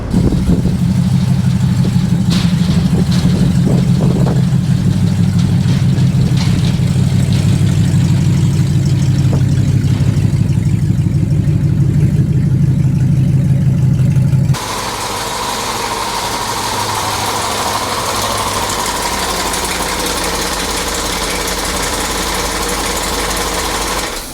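A rough-running Land Rover engine idles loudly up close, a lumpy, uneven rumble with irregular ticks and knocks, then the tone shifts abruptly to a thinner, hissier drone for the rest.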